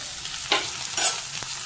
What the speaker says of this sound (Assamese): বেছি ফ্ৰাই কৰিলে এই লোকেল মাছৰ অৱস্থা নাইকিয়া হৈ যাব